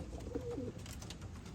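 A racing pigeon cockbird gives one short, soft coo, faint against a quiet background.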